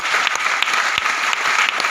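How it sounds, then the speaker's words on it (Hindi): Loud, continuous clapping from a large audience at a live motivational talk, dense and steady throughout with occasional sharper individual claps standing out. "तो जोर से ताली बजाओ"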